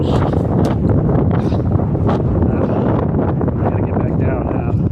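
Strong wind gusting at a mountain hilltop, roaring and buffeting the microphone in a loud, continuous rumble with no break, no voices over it.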